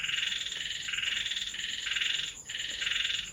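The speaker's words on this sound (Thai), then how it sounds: "บอกว่ามีหมดครับทั้งกบทั้งเขียด ออดแอดออดแอด อยู่รอบ ๆ" Frogs croak around a pond just after rain, making a dense, continuous chorus of rapid rhythmic calls with only one brief gap and no talk.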